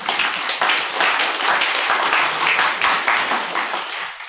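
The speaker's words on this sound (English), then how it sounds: "Give yourselves a round of applause." A church congregation gives a sustained round of dense applause at a Sunday Eucharist service, many hands clapping steadily for about four seconds before tapering at the end.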